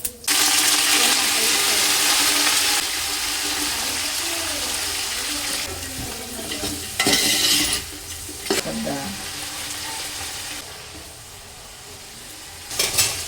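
Food frying in hot GRB ghee during home birthday cooking makes a loud, continuous sizzle, close up, shifting in intensity as it is stirred, with brief clatters and bursts of louder crackling.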